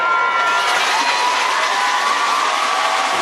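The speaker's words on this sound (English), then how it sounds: "We're on the home side, so you'll hear the home crowd." Home crowd at a regional championship high school football game, Howe Bulldogs vs Waskom Wildcats, roaring in sustained cheers and shouts with a dense, loud, continuous wash of voices.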